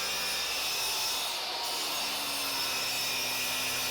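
A Japanese pull saw cuts through wood for a cutting board with a steady, continuous rasping hiss. The sound is close and fairly loud, with no pauses or speech.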